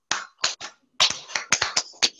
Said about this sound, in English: Let's clap for Kiara.